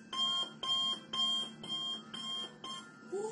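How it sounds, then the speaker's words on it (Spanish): An alarm clock rings in six rapid bursts of electronic beeping, evenly spaced with short gaps, loud and close. "estaba durmiendo muy a gusto cuando escuchó su despertador."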